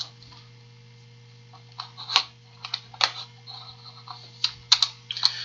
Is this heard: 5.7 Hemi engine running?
no